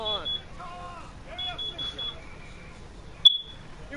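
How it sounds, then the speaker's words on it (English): Smoke detector giving a single sharp high electronic beep near the end, brief and piercing, following a stretch of quiet voices talking. "It was a smoke detector."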